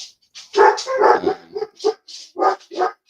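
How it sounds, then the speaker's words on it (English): A dog barks close and loud in a quick run of sharp barks, then several shorter separate yips with brief gaps between them, with no talking over it. "bearing with me while my dog's barking"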